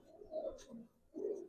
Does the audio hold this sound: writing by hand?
no